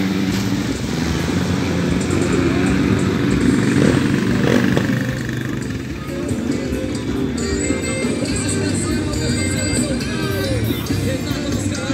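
Motorcycle engines idle and rev nearby amid a busy outdoor crowd at a trail-riding gathering in Ribeira do Pombal, Brazil, with people chatting in the background throughout.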